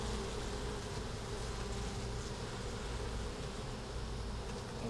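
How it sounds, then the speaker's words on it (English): A bumblebee buzzes near a Flow Hive, a steady low droning hum that persists throughout at moderate distance with faint background noise. "there's the flight of the bumblebee there"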